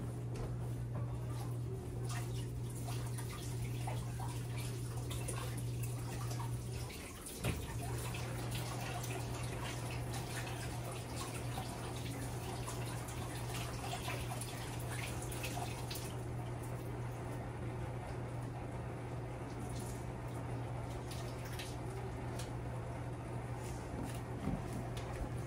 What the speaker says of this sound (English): So take your cilantro, rinse it.